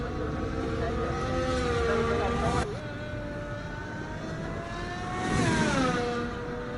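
A race car in a sim racing game starts its first flying lap, its engine a loud sustained whine that drops abruptly as it shifts gears, then climbs again, under a commentator's voice.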